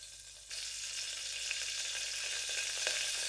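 Cooking oil poured into a pan for a curry sets off a sudden sizzle that continues as a steady, close hiss with small crackles and no talk.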